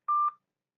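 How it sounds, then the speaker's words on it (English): A short electronic beep sounds once as someone joins a conference call during a board training webinar, a clean single tone lasting about a quarter second, followed by silence. "I heard one beep"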